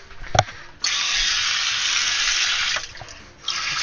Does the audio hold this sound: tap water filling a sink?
yes